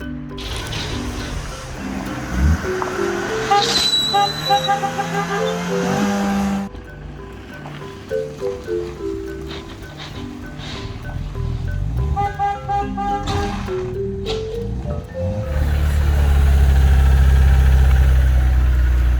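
Engine of the Project Albert 75 tractor cranking, then running and idling, loud and close, with uneven firing, a rough rev and a few sharp toots along the way, no talking.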